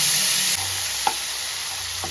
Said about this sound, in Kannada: ಈ ಬಟಾಣಿ ಹಾಕ್ಕೊಂಡು ಇದನ್ನ ಒಂಚೂರು ಫ್ರೈ ಮಾಡ್ಕೊಳ್ಳೋಣ.